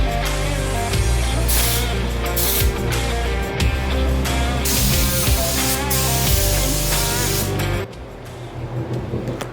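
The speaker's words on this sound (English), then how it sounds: "It's barely spraying, it's still so thick." A spray gun spraying thick metallic candy paint hisses loudly and steadily for several seconds with a harsh, mechanical edge, then cuts off abruptly near the end.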